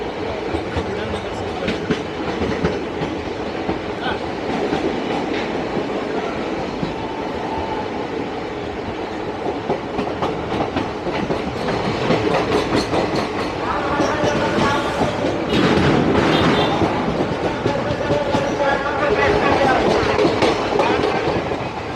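The Kanchanjunga Express runs steadily along the tracks near Dum Dum Junction in Kolkata, with a continuous rolling rumble and clattering wheels that swell louder toward the end, heard close from on board.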